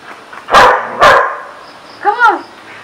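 A pet dog barks on command at home, two loud sharp barks followed by a whining yelp, close to the microphone.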